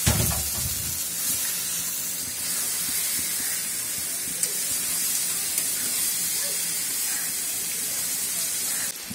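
Lightly boiled taro stolons drop into hot, cooked-down spices in a pan, setting off a loud, continuous sizzling hiss that starts with an initial burst and holds steady nearby.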